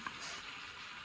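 Vegetables sautéing in a pan for black bean burritos, a steady close sizzle lasting about a second with no voices over it.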